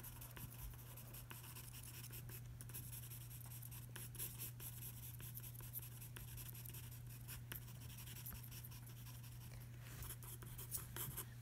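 Pencil strokes on paper sketch a squirrel's fur, a soft continuous scratching with faint repeated rubs under a steady low room hum, quiet and close with no talk.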